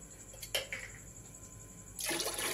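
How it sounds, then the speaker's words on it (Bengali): Water poured into a pressure cooker over sautéed rice and lentil khichuri, a few faint splashes first and then a steady louder pour near the end. "বন্ধুরা আমি এবার পরিমাণ মতন জল দিয়ে আমি ঢাকনাটা লাগিয়ে দেবো।"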